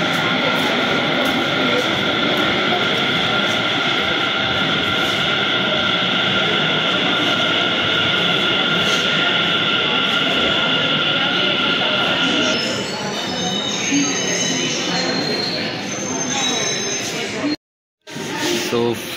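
A Delhi Metro train rumbles steadily into a station platform, with a sustained whine and wheel noise that shifts as it slows, while a person talks over it.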